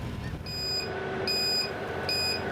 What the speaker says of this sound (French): La sonnerie retentit au cours de la première nuit de mer.